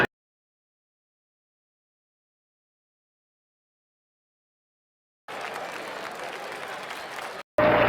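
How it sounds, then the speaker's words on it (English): A baseball crowd at a 1971 Red Sox–Orioles game applauds Orioles pitcher Jim Palmer, a burst of distant stadium clapping rising after long silence and cutting off abruptly near the end. "The applause is for Jim Palmer."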